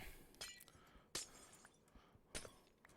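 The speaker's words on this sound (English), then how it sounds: "I'm breaking glass with a silk touch pick" Glass blocks shattered one after another with a silk touch pickaxe in Minecraft, three sharp crisp breaking bursts spaced about a second apart, with faint clinks in between.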